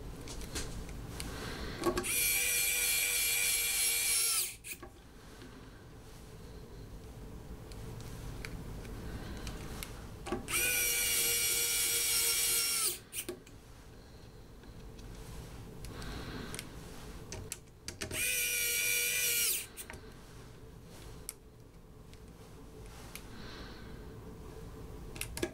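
A Wowstick electric precision screwdriver driving small screws, giving three separate bursts of high, thin motor whine a few seconds each, with quiet handling noises between them.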